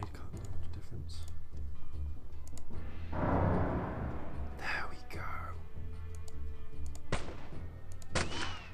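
A stun grenade goes off in the video game Arcanum as a broad, rushing burst lasting about a second, followed by sharper clicks and bursts of game effects, with a murmuring voice underneath.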